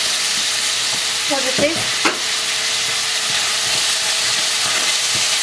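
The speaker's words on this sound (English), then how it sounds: "Have to fry the onion a little bit to getting brown a little bit" Onion frying in oil for Afghan ashak sizzles steadily and loudly with a constant hiss, broken by a few brief stirring clanks, while a voice speaks briefly.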